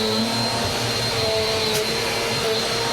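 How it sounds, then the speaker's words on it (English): A vacuum cleaner runs on a bathroom mat, a steady loud whining roar with a constant motor hum that stays even throughout, with no voices. "this little area is like impossible to vacuum all the way"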